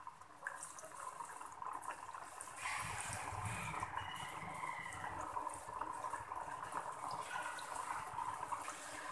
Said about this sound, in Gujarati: શક્કરપારાને આપણે મીડિયમ ગેસ પર જ તળીશું